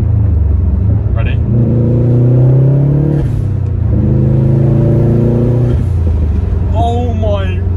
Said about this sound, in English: It's got like a bit of overrun, it's got flutter, blow off valve noise.